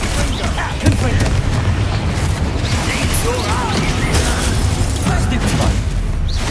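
Confringo blasting spell cast in the Hogwarts Legacy video game, dense booming bursts and crackling impacts layered over busy combat noise and game music, loud and continuous throughout.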